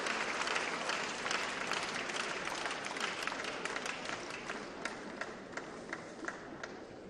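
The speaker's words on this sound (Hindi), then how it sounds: "तालियों की आवाज।" An audience at the India International Science Festival opening at MANIT, Bhopal, claps for a newsletter release, producing a dense, sustained round of applause that slowly eases off over several seconds, with sharp individual claps standing out toward the end.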